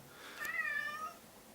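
A single cat's meow rises and falls at moderate distance, drawn out for about a second in an otherwise quiet room, with no talking.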